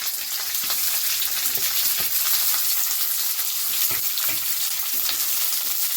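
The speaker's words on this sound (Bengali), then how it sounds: "আর এগুলোকেও হালকা করে ভেজে নেব। খুব বেশি ভাজবো না" Onions fry lightly in a pan with garlic for chilli gobi, giving a continuous close sizzle with occasional stirring clicks and no talking.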